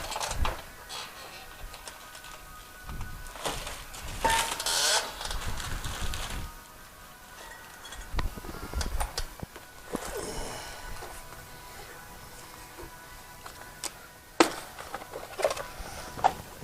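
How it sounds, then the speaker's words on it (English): Packaging for new rear brake pads for a Ford F-150 crinkles and rustles, with scattered clicks and short scraping bursts at moderate level and quieter gaps between them. "The unboxing of the brake pads."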